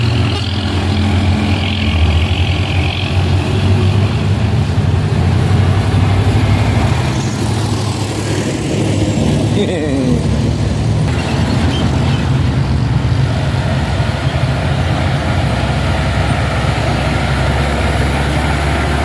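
A long Hino truck labors up a steep hill road at Bukit Kodo, its engine a steady, loud low drone that holds throughout, with a slight shift in tone partway through.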